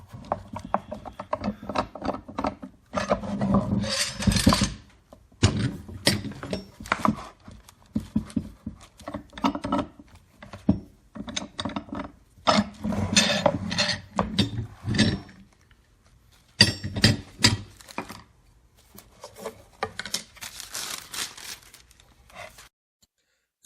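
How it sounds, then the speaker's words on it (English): Hand sanding of proud wood veneer on a laser-cut marquetry panel with 400 grit sandpaper, heard as bursts of dry, rough scratching strokes separated by short pauses, fairly close and loud, with no speech. "decided to come in with I think some 400 grit sandpaper and just get everything nice and level and smooth"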